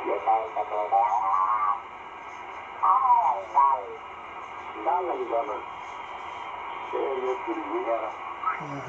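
A single sideband radio station comes through a Ten Tec Argosy receiver, the distorted, pitch-shifted voice speaking in bursts over a steady hiss and faint carrier tones.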